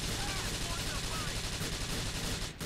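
Dense, continuous gunfire in Grand Theft Auto IV, rapid shots packed into a loud, steady stream that cuts out briefly near the end.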